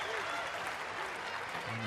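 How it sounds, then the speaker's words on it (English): A crowd at a women's field hockey World Cup match between Spain and South Africa in 2018 applauds in a dense, continuous wash of clapping, while a commentator talks over it. "And the crowd giving their applause."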